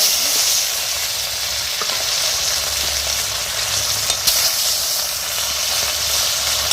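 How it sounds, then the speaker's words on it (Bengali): Fish pieces fry in hot oil in a wok, producing a loud, steady, close hiss of sizzling with occasional faint crackles and a brief clink, unbroken by speech. "কড়াইতে তেল দিয়ে দিয়েছি আর কড়াই তেলটা গরমও হয়ে গেছে এবারে মাছগুলো ভেজে নেবো"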